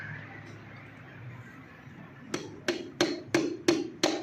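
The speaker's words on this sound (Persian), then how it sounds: "با ضربه چکش" Sharp metallic hammer blows tapping a pin into a Pride car gearbox during assembly, six evenly spaced close strikes after a quiet stretch.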